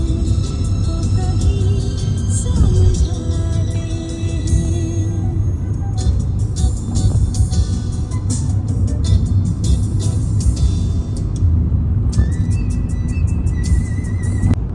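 A vehicle's engine starts and drives along an everyday road, giving a loud, continuous low rumble and steady road noise that persists throughout, with passing traffic sounds layered on top.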